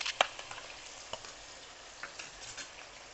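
Oil heats for Manchurian gravy, a faint, soft crackle with a few light pops and ticks, quiet and close, with no voices.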